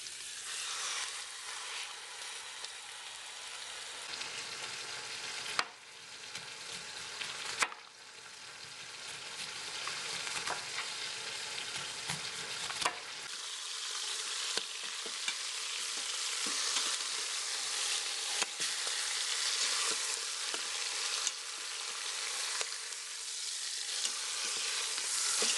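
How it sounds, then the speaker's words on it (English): Venison browning in an Instant Pot gives a continuous, hissing sizzle that holds at an even level throughout, with occasional soft bumps as the meat is turned. "We'll be browning the meat for about 5 minutes, rotating it throughout the process to brown the meat on all sides."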